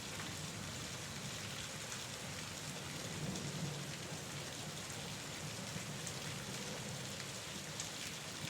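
Steady rain falls hard on surfaces, a dense constant hiss with a low rumble of distant thunder rolling beneath it, faint and even throughout.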